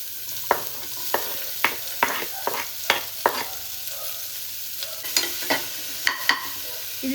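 A large onion frying brown in ghee with spices for a prawn biryani in a cooker. Sizzling runs under a steady series of spoon clanks and scrapes as it is stirred, close up, with no voices.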